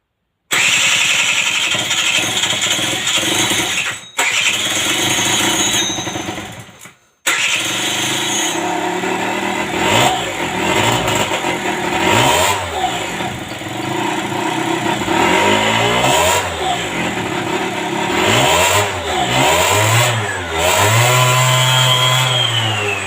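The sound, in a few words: Aprilia Scarabeo Ditech scooter engine starting and revving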